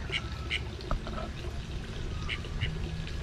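Call ducks quack in several short bursts at a farm mini zoo, moderately close over a steady outdoor background with faint other sounds.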